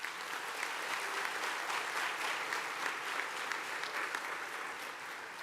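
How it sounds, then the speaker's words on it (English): A graduation ceremony audience gives a sustained round of applause for the graduates, even dense clapping heard from a distance and fairly faint. "may we please give another round of applause to all of the graduates here tonight"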